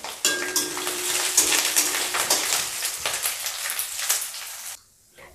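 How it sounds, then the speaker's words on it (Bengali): Ginger fries in a pan for Saraswati Puja bhog khichuri and gets stirred with a utensil, giving a near, steady sizzle broken by repeated scraping and clinking before it cuts off abruptly near the end. "আদাটা ততক্ষণ ভাজতে হবে যতক্ষণ না পর্যন্ত এটার"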